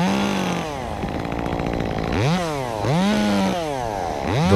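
A small Echo CS-2511T top-handle chainsaw, West Coast build, cuts close and loud, its engine pitch rising and falling in repeated swoops as it bogs under load and revs back up.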